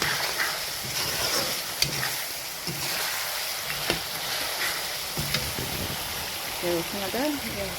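Garlic and ginger paste sizzling and crackling in hot oil for a duck curry, a loud, continuous frying hiss with occasional stirring scrapes.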